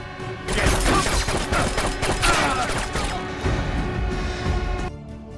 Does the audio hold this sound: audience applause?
no